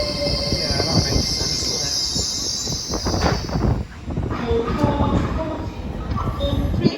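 A train moving through Doncaster station, loud rolling wheels with squeals and clatter, close by, with station sounds and occasional talk around it.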